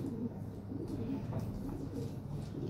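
A European Lahore pigeon coos in a low, rolling murmur throughout the short stretch, close and steady, blended with other birds' soft burbling.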